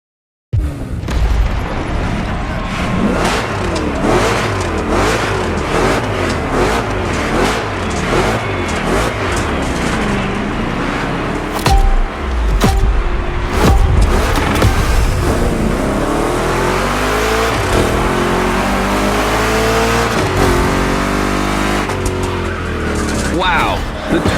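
Chevy big block cars in The Crew Motorfest racing game, on a gymkhana course: engines rev hard and tires squeal and skid through rough turns, loud and continuous for the whole stretch with little pause.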